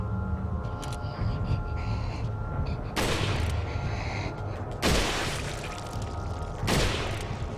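Three heavy rifle shots boom out at spaced intervals in Resident Evil 4, each a loud close blast over a dense bed of game noise and music.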